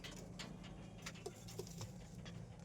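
Soft pigeon cooing murmurs in a loft under a steady low hum, with a few faint rustles and wing shuffles nearby.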